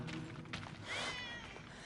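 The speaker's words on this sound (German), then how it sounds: "Wie zum Teufel kommt die Katze hier rein?" A cat in the video game 11-11 Memories Retold gives a short meow, fairly close and moderate in level over faint background ambience.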